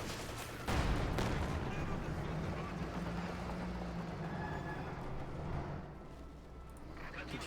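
Katyusha rocket artillery fires in Company of Heroes 2, a sharp launch blast followed by a long roaring, rumbling barrage of rockets and explosions that fades slowly with a steady battle din behind.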